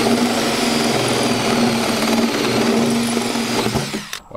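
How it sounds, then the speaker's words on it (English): A DeWalt 12-volt lithium-ion drill fitted with a hole saw bores through a bus roof, giving a loud, steady grinding whine that runs for about four seconds before cutting off abruptly. "So I'm gonna take my hole saw and drill a hole."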